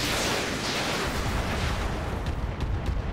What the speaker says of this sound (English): Going to fire everything on this guy.